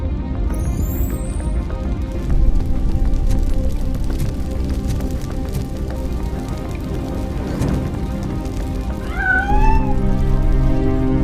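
A cat meows in the game Robocop Rogue City: a couple of brief rising-falling cries at the start and again near the end, over a constant loud bed of background music and ambience.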